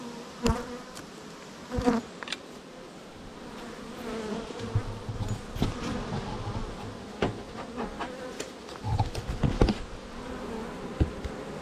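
Honey bees swarm and drone around an opened beehive as frames are pulled during a honey harvest, a dense continuous buzz with sharp clicks and knocks of hive tools and wooden frames scattered throughout, no voices.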